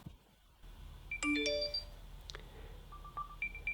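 AirPods Max emit their locating chime, a set of bright electronic beeps and tones rising over a faint hiss, then shorter repeated pings. The sound is quiet and small, heard on its own.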